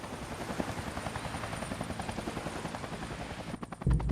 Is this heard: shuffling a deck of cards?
no